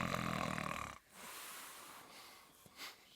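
A few rough, wheezy snoring noises made by voices imitating snores, a loud snort followed by quieter breathy sounds.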